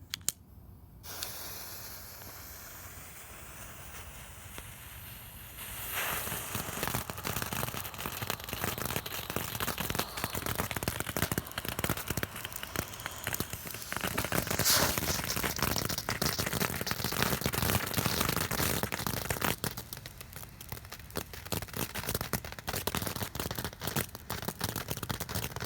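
Phantom brand Tanks with sparks fireworks burn with a continuous loud hissing and crackling spray of sparks, building after a few seconds and lasting through the rest of the clip.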